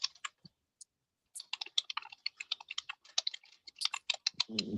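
Quick, irregular clicks of typing on a computer keyboard, close and crisp, starting sparsely and then running in busy bursts against near silence.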